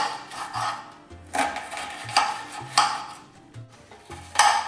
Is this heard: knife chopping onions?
yes